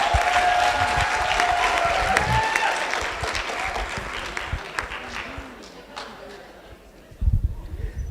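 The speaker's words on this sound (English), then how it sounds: "Masipala, please give him a round of applause." An audience at a South African accessible tourism summit applauds with dense, sustained clapping. The sound fades gradually and ends with a few scattered claps.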